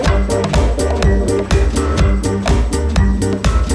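Electro swing from a new EP, with punchy programmed beats under swing-style horns and a bouncy bassline. It plays loud and steady throughout with no talking.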